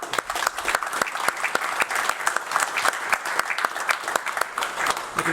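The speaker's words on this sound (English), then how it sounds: "I'd still like to give him a round of applause" Audience at a police awards ceremony claps steadily, a dense, moderately loud patter of many hands in an indoor hall, sustained without pause.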